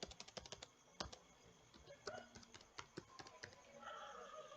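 Typing on a computer keyboard, a quick irregular run of light key clicks with brief pauses, fairly close but quiet, with faint background noise and no talking.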